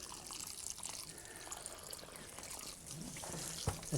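Water is poured onto freshly transplanted plants in a greenhouse, a faint steady trickle and splash, low and continuous, with a few soft knocks near the end.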